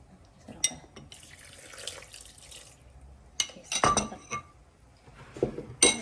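Boiled fish sauce is poured into a pot of mushroom soup, a short liquid pour mixed with clinks of glass and utensils, close and fairly quiet, with no talking.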